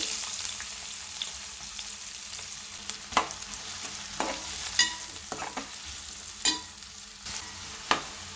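Onion pieces frying in hot oil and stirred, a steady close sizzle broken by sharp scraping clacks of the spoon every second or so, with no talk.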